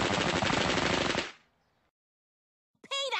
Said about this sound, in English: Peter, is it safe to be firing real guns at each other in the house?